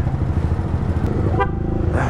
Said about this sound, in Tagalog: Kaya busina tayo konti.